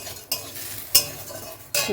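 Potatoes, pumpkin and onion frying in a pan, a low steady sizzle broken by three sharp scrapes of a spatula stirring the vegetables, close and clear.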